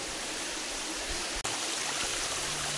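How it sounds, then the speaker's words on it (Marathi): Water pours down the stone steps of Sudhagad fort in the monsoon, a loud, constant rushing roar close by, broken only by a split-second dropout. "गडाच्या पायऱ्यावरतून पडणारं पाणी हे अतिशय मनमोहक दृश्य निर्माण करत होतं."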